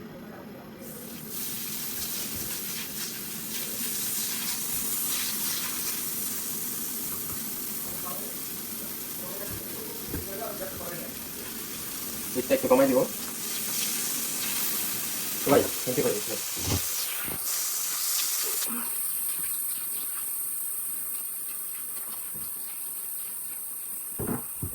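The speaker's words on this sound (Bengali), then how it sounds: "অল্প একটু তেল দিয়ে নিলাম দেন আমি তেলের সাথে মিক্স করবো এখানে বাটার" Butter and oil sizzle in a pan as a steady, hissing background that runs throughout, with a few sharp knocks and clatters midway and someone speaking briefly.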